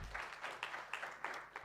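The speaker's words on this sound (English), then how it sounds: "Another round of applause for our CEO" Corporate strategic plan launch audience giving a round of applause for the CEO, faint, thin clapping from a small crowd in uneven bursts over under two seconds.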